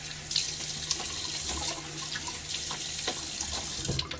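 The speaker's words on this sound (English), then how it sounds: "A little quick rinse." Water tap running into a sink for a quick rinse during a wet shave with a Gillette Nacet blade, a soft steady stream with light splashes and small clinks, fairly quiet and close.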